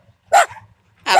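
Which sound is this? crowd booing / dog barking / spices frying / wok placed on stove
dog barking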